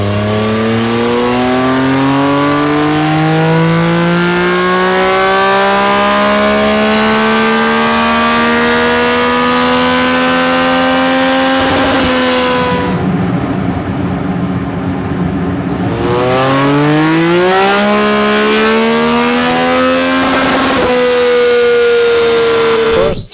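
Motorcycle engine in touring mode held at full throttle, its loud rising whine climbing steadily in pitch, then a brief gear-change dip before it climbs again, all alone with no voices.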